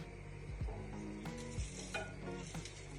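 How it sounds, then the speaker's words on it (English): Sweet pepper drops into a hot pot for callaloo rice, followed by soft sizzling and a few brief clinks and scrapes of a spoon stirring, quiet and close with no talking. "I'm just going to add my sweet pepper in there."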